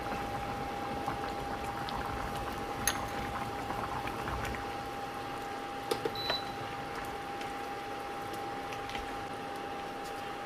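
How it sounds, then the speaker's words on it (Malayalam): Mutton stew curry bubbling steadily in a pan, a continuous close simmering hiss with scattered soft pops and plops, heard alone without talk. "ഇപ്പം നന്നായിട്ട് തിളച്ചിട്ടുണ്ട്."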